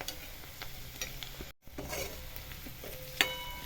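Onions and tomatoes with curry leaves frying in a pan for a village-style okra thecha, a soft continuous sizzle with intermittent stirring scrapes, a brief dropout midway and a small metallic clink near the end.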